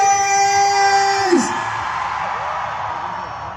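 Crowd at an outdoor Karbi Anglong Day 2022 speech event at Taralangso yelling and whooping in response to a call for noise, a loud sustained roar of many voices that gradually settles into softer background cheering.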